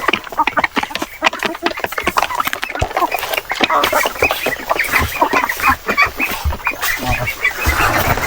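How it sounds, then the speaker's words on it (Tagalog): Heritage chickens cluck and squawk busily while feed is scattered for them at a small farm, a dense, close, continuous flock chatter with sharp calls throughout. "Nagbigay na si Brad ng patuka sa ating mga alagang heritage chicken"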